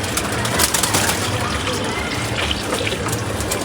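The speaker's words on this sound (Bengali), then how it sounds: "পানি দিয়ে দিচ্ছি" Water is poured out for pigeons in a loft, a continuous trickling, splashing stream close by, with pigeon sounds and a voice faintly mixed in throughout.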